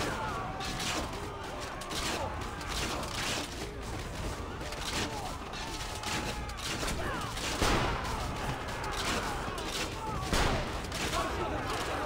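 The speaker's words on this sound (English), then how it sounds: "press LB to fire a cannon shot on them" Cannon shots and crackling gunfire from Assassin's Creed Revelations keep booming on top of one another for about twelve seconds, forming a loud, steady battle barrage with no pause.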